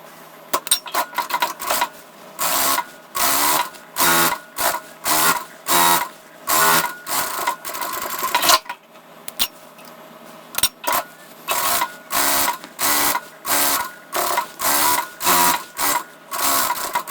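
A sewing machine stitches a fabric channel in short repeated bursts of rapid mechanical clatter, close and fairly loud, separated by brief pauses as the fabric is repositioned.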